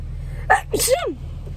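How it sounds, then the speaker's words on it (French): A single sharp sneeze from a nervous driver in a car, a quick intake followed by a bright explosive burst over a steady low engine hum. "Je vais éternuer tellement ça me fait peur."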